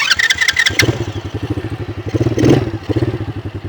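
Children's quad bike driving forward at close range: a rapid, even chugging motor pulse with mechanical clatter, an initial burst of higher rattling, then a steady rhythmic throb with a brief swell, loud and alone.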